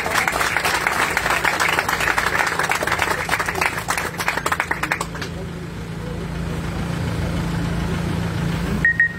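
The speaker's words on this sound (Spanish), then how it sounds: "Un fuerte aplauso," An outdoor audience at a highway section inauguration ceremony in Guatemala claps for a congressman, a burst of applause lasting about five seconds before it fades into open-air ambience with a low engine hum.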